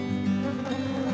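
Bees buzzing steadily around hives placed among coffee plants on a farm, a continuous close drone with no voices.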